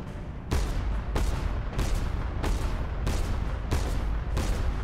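Broadside cannon fire from an airship in the video game Cloud Pirates, a heavy run of booming volleys landing roughly every half second to second, loud and continuous with rumbling tails overlapping, no talk.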